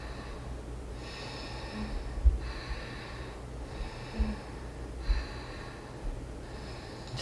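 Slow, deep breaths during a yoga camel pose, several long airy inhales and exhales in a steady rhythm, close and fairly soft, with a few light thumps and no talking.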